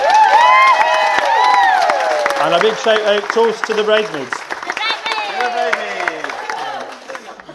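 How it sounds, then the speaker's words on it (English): Wedding guests applaud and cheer for the bridesmaids during the reception speeches. A steady wash of clapping and whoops runs under a voice talking, swelling in the middle and then thinning out. "So please give them a big round of applause."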